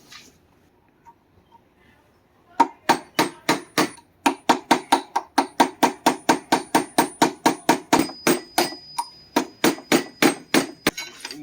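Steady hammer blows on a crystal radio build, roughly two dozen sharp close strikes in an even rhythm following a quiet start, with no talking.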